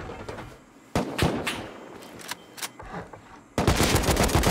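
Bursts of rapid automatic gunfire in a modded raid PvP video game, loud sharp volleys separated by short pauses, then a sustained dense barrage at the end.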